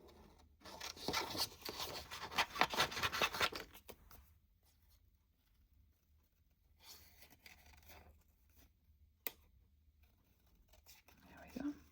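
Scissors snip and rustle through paper while fussy cutting paper flowers, a dense few seconds of close cutting and rubbing followed by quieter sporadic snips and a sharp tap.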